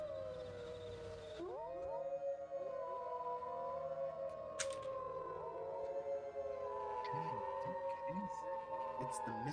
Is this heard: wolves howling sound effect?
yes